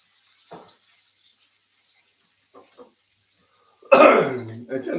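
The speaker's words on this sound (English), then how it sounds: "I got this cough, I can't seem to get rid of it" Faint muffled sounds early on, then one loud, sharp cough up close near the end, followed by a softer trailing burst.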